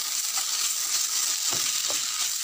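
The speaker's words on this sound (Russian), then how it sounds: "И теперь все это дело перемешиваем хорошенько." Turkey borscht ingredients stirred in a hot pan, a steady close frying sizzle with a few soft scraping strokes of a spoon, no voices.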